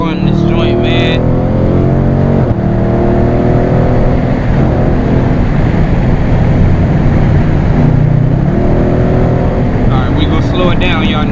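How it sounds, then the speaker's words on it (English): A 2019 Dodge Challenger R/T engine is revved hard for a burnout, loud and close. The pitch climbs and falls in repeated sweeps over a continuous roaring drone. "I'm about to bust the Burnout, man"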